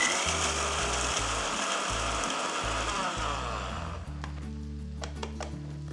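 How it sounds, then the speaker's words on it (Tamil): An electric mixer grinder whirs loudly and steadily as it grinds roasted peanuts into powder in a home kitchen, the motor's churning hum and rattle running for about four seconds before cutting off, leaving a brief clatter. "நம்ம இப்போ வேர்க்கடலை வறுத்து வச்சுருந்தோம் இல்லையா அதை மிக்சியில் போட்டுக்கலாம்"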